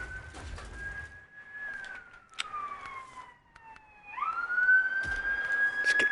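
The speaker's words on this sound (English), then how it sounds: "Ambulance services screaming past" An ambulance siren in the SnowRunner video game, set in Alaska, wails with slowly falling and rising tones, dipping as it passes and then returning louder and higher, alone without talk.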